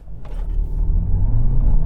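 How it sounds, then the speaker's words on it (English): Volkswagen Golf 1.5 petrol launched at full throttle, a close, loud engine rumble building steadily as the car accelerates from a standstill. "I'm just going to lift off the brake and then floor the accelerator."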